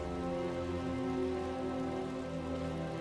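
Continuous rain pattering on surfaces in Final Fantasy XII: The Zodiac Age, a dense, even hiss of falling drops with no pauses and no voices.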